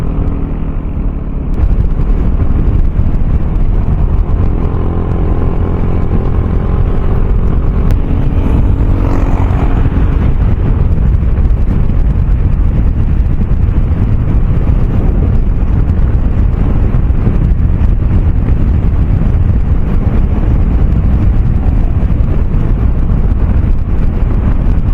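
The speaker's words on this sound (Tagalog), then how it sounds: "Grabe hangin dito, lakas ng hangin." Strong wind roars into the microphone during a road trip on a steep mountain road to Pichon, Caraga, Oriental, with a loud, constant rushing buffet and a vehicle engine droning underneath.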